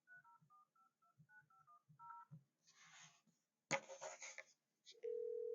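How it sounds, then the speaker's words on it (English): A mobile phone dials a local weather line: a run of short, clean keypad tones, a pause, then a ringing burst and the start of a steady line tone, all fairly quiet with no speech. "we'll call my local weather line"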